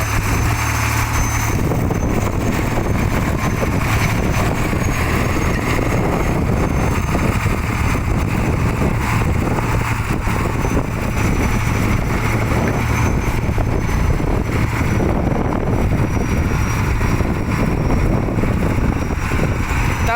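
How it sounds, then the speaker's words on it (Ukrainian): A loud T-150 bulldozer tractor engine idles steadily at close range, a constant low throbbing rumble that holds without change throughout. "Він на холостих таке тут собі спокійно."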